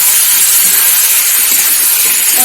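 Water splashed into a hot pan with Kashmiri red chili while making a chicken and papaya curry, sending up a loud, continuous close-up hiss of steam and sizzling that holds steady throughout.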